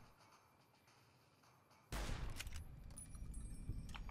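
Gunfire in the video game Fallout: New Vegas, a sudden loud burst of shots cutting in after quiet background ambience, followed by several more sharp reports in quick succession.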